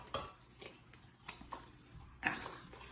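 A wooden spoon presses cooked potatoes through a ricer, producing several scattered knocks and scrapes of wood on metal at an uneven rhythm, close but fairly quiet, with no talking.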